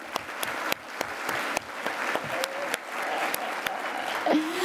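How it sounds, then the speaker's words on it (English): An audience at a healthcare conference applauds, with several loud, close individual claps ringing out over a softer crowd clapping, and a brief vocal whoop near the end. "Can we give them a round of applause,"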